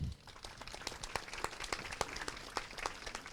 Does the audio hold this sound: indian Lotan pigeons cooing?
no